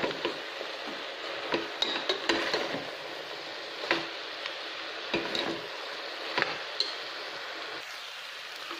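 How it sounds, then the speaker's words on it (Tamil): Mutton tossed with masala in a pan, stirred steadily: a continuous soft sizzle runs underneath while a spoon scrapes and clicks against the pan in irregular strokes, close and alone without talk. "அந்த மட்டனோடு சேர்ந்து எல்லா மசாலாவும் ஒன்று சேர்கிற மாதிரி பரட்டணும்"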